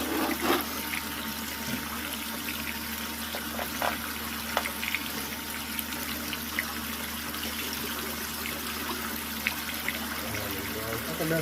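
Water sprays and splashes onto a milling machine table in a workshop, a steady hissing, trickling rush with occasional small clanks, heard close and continuous beneath a low machine hum.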